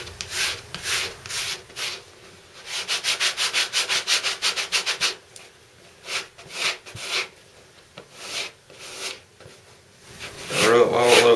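Pumice stone rubbed briskly over the skin of a hand to break up glue, a close, rhythmic scraping in quick repeated strokes, pausing briefly before resuming, with brief sniffs or rustles near the end.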